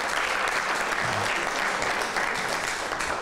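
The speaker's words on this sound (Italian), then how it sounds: "l'applauso del nostro pubblico e del nostro comitato" An audience at the final of a model contest in Stresa, Italy, applauds loudly and continuously, a dense wash of clapping filling the whole few seconds.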